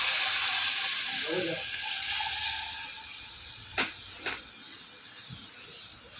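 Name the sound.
tamarind broth poured into hot chilli curry leaf tempering, sizzling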